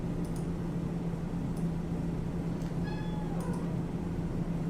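A cat meows near an indoor microphone, its short harmonic cry rising over a steady low hum, with a few faint clicks around it; no one speaks during it.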